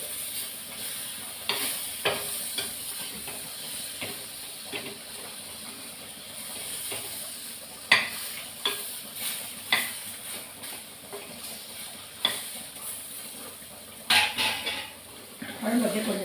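A spoon stirs and mashes brinjal kulambu in a pot, with irregular scraping and clinking knocks over a soft steady hiss of simmering, close and moderately loud.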